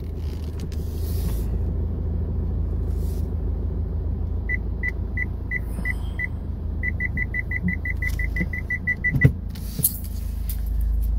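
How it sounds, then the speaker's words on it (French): Cars rolling into a crowded parking area, a steady low engine rumble throughout, with a run of evenly spaced high beeps in the middle and a brief louder clunk near the end. "Vous voyez les voitures."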